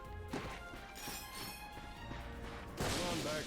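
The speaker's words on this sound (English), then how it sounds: "Look at him smashing crates." In the Ratchet and Clank (2016) video game, the Lombax smashes crates, giving several crunching breaks and thuds over a faint game soundscape, ending with a louder burst.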